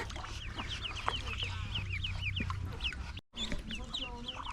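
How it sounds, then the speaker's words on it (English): Outdoors in Phnom Penh, a chicken tending baby ducks clucks and chirps in a run of short, repeated high calls, moderately close, over a steady background hum with a brief dropout. "So this chicken looked after the baby ducks"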